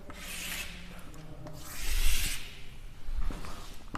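A marker rubs across a board while a statistics table is drawn, making scratchy strokes that swell and fade in several long sweeps, close and fairly loud, with no talking.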